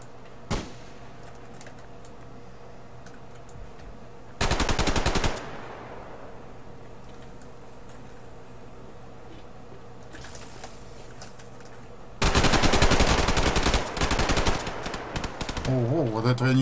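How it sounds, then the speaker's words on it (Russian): Automatic gunfire in the shooter game Survarium, two loud sustained bursts over low background ambience, the second longer and followed by further shots, with no talking. "какой-то отстрел тут происходит"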